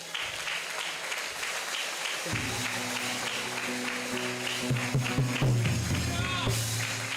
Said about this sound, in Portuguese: Você pode dar uma linda salva de palmas para Jesus?